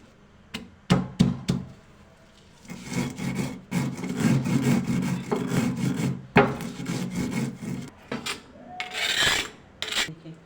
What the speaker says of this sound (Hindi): ऐसे मोटा मोटा कूट लिया लहसुन मैंने इसमें।